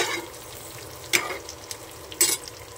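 Masala for stuffed brinjal (masala wangi) is stirred in a sizzling pan, with a low frying hiss throughout and two distinct scraping strokes of the spoon, close and clear.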